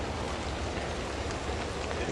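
Light rain falls outdoors as a dense, steady hiss that stays even and unbroken throughout, with no clear voices on top.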